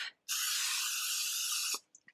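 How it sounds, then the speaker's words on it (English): Cooking spray hisses onto a regular metal loaf pan in a single steady burst lasting about a second and a half, close and loud, followed by a few small clicks. "I'm gonna spray the pan"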